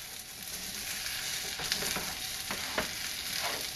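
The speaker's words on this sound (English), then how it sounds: "We're just going to stir it up" Kimchee fried rice with egg is stirred in a hot pan, a soft continuous sizzle broken by a few scraping strokes of the utensil against the bottom; fairly quiet and close.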